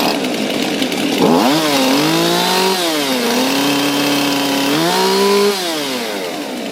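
A Husqvarna 576xp chainsaw runs loud and close, its engine note climbing and falling through several rev changes, held high between the swings.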